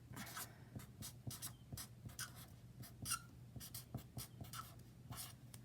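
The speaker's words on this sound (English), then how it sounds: "I'm gonna write story arc." A pen or marker writes out a story arc on paper, scratching close up in quick strokes and short bursts with brief pauses between words, quiet and steady, and nobody speaks.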